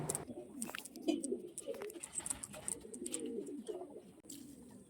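Andhra pigeons cooing in repeated soft throaty bursts, several birds overlapping close by, with faint rustles and wing shuffles between the calls.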